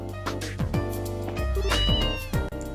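A cat meows in the Trails in the Sky SC video game, giving a drawn-out tonal meow with several rising and falling inflections at steady, close loudness and no talk.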